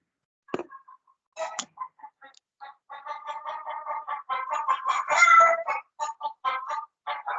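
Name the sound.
chickens clucking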